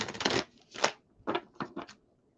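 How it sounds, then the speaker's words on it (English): Tarot cards shuffled by hand, a fast riffling burst followed by several shorter separate shuffles, close and fairly loud with no talking. "We get a couple shuffles for Aries through Pisces"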